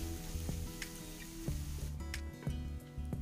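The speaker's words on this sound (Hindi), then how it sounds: "और अब मैं इसमें डालूंगी चॉप अनियन 100 ग्राम और इसको डाल के ज़्यादा हम कुक नहीं करेंगे, 1 मिनट के लिए कुक करेंगे हाई फ्लेम पे।" Chopped onion frying over a high flame in a pan, with a steady close sizzle throughout and a few soft stirring knocks and scrapes.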